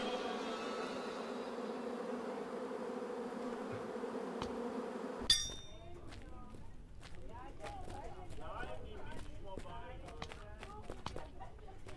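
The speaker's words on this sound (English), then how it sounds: "Oh, bees! Bees!" Bees buzz with a steady droning hum in a video game for several seconds before an abrupt cut to quieter scene ambience with scattered clicks and steps; someone talks over parts of it.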